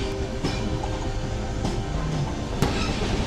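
The Amaravati Express rolls along the tracks on the Goa to Vijayawada route, a steady rumble heard from inside the carriage with a few sharp clicks of the wheels over rail joints.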